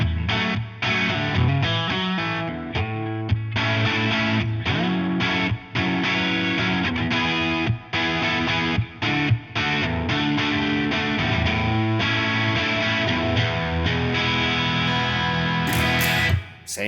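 An electric guitar through a distortion boost pedal plays open, ringing chords through heavy distortion, strummed loud with brief pauses between phrases.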